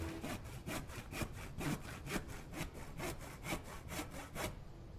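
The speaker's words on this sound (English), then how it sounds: "and you hear a little sawing noise" A log is sawn on a saw bench in the video game The Infected, with steady back-and-forth rasping strokes of a hand saw through wood repeating evenly, close and alone.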